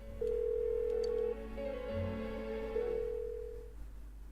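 An unanswered phone rings in the video game Persona 4, with electronic tones sounding in a few steady bursts over a low hum and no voices.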